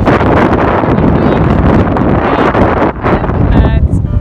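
Strong wind buffets the microphone of a cyclist riding on gravel into a prevailing wind, producing a loud, continuous roar and rustle that never lets up. Hail is not distinct in it.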